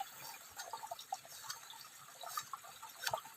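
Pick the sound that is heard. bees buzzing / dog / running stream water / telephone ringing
running stream water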